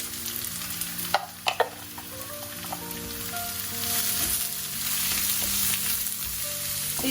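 Cabbage, carrot and green chillies sizzle and crackle in a hot pan as they are stirred, with a few sharp clatters of a utensil near the start and no talking.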